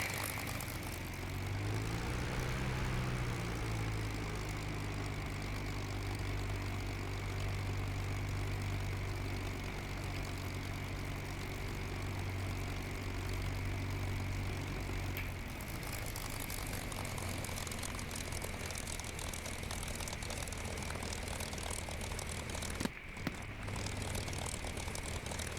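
The P-51 Mustang propeller engine in Digital Combat Simulator roars steadily as the fighter takes off, its pitch climbing early and holding as a loud, continuous drone for the whole stretch, with no talking.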